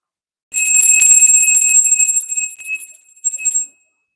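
A small handbell rung close and loud with a bright, shimmering high ring that jangles for about two seconds, dips, then sounds again briefly before stopping, against silence.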